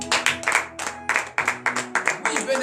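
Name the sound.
congregation applause during morning prayer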